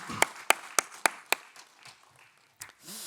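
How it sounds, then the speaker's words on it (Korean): Clapping rises during a church Wednesday service: five sharp, evenly spaced claps ring out close and clear, then fade into quieter, scattered sounds. "우리 하나님 아버지께 영광의 박수 올려드립니다."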